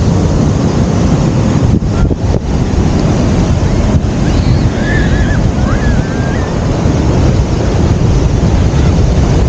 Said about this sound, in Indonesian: Ombaknya lumayan.